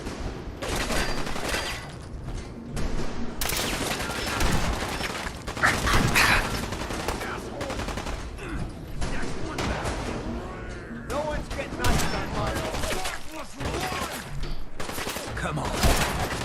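Dense bursts of gunfire in the video game Fallout 4, rattling and popping in clusters with mechanical clicks, mixed with game sounds and voices talking throughout.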